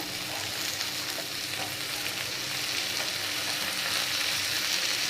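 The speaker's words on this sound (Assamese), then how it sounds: "আৰু এইখিনি মই ভালদৰে ভাজি ল'ম।" Beans and potato frying in a pan for a bhaji, with a continuous close crackling sizzle that holds steady and fairly loud throughout.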